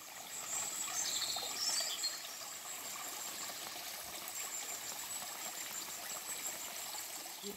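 Water of the Huveaune river near its source flows steadily as a continuous broadband rush and trickle, close and even throughout with no voices.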